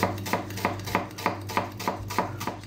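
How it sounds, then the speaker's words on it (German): A knife finely chopping an onion on a cutting board, steady rhythmic knocks about three per second, close and clear over a low steady hum. "als erstes schneiden wir mal die Zwiebel. Schön, die Zwiebel soll diesmal schön fein geschnitten sein."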